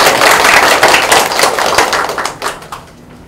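An audience at a Korean unification talk concert applauds, a dense, loud patter of many hands that thins out and fades over the last second.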